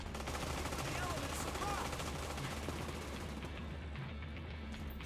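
Video game gunfire from The Division 2 in solo PvE combat, dense rapid automatic bursts under a continuous rattle, fairly faint and steady throughout, with faint voices mixed in.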